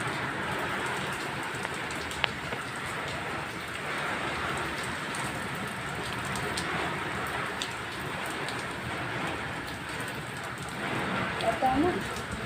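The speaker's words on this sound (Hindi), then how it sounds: "एकदम अचानक सुबह एकदम काला बादल छा गया और बारिश होने लगी बहुत तेज़ से।" Heavy rain with wind during a sudden morning downpour under black clouds, a dense steady hiss of rainfall heard alone and close for the whole stretch, swelling slightly near the end.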